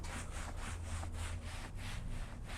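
Cloth buffing product residue off a leather car seat during interior winterizing, a steady rhythmic rubbing with repeated back-and-forth strokes, close and fairly quiet, with no talking.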